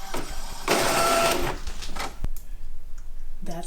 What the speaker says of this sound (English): I'm printing out the 11 by 17 paper size.